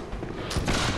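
Rapid gunfire from a PS4 video game bursts out in a dense, loud volley that swells halfway through this short moment.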